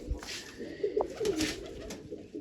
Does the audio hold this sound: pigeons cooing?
yes